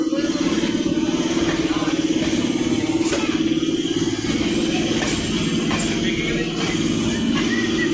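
A continuous rumbling rattle of a moving local train between Majerhat and Barabazar, steady and fairly loud, with rhythmic clattering and broadband noise throughout.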